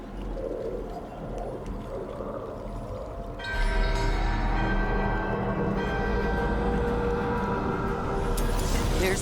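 A resonant bell rings out during a ritual in the video game Dragon Age: The Veilguard, its sustained humming tone swelling in over a droning ambient bed and holding steady, loud and close.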